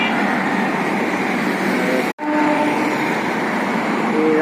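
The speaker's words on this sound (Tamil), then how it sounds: "இதுதான் மெட்ரோ ட்ரெயின் போகிற இது." A Bangalore metro train rolls past with a loud, steady rush and rumble that fills the whole clip, broken only by a brief sharp dropout midway, with faint tonal squeals toward the end.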